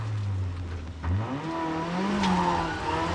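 A Mitsubishi rally car on a stage of the 1990 Manx National Rally drones close by with a steady engine note that dips, then climbs through revs as it accelerates away, with continuous road and wind noise and no voices.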